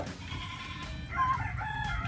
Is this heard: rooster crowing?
yes